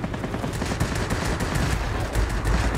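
Sustained rapid fire from a P-51 Mustang's aircraft machine guns in a flight combat game, a dense continuous rattle of closely spaced shots, loud and close, with no talk.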